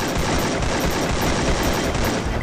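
Dense, rapid gunfire crackles nonstop with heavy low-end booms, like automatic weapons in a Free Fire game firefight, loud and continuous with no talking.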